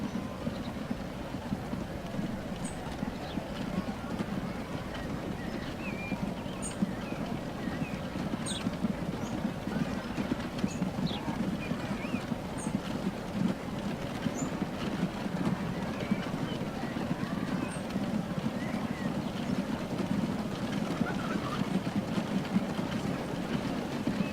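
A train runs steadily through the Transport Fever video game world, giving a continuous low rumble of wheels and carriages with faint high chirps above it, and no talk over it.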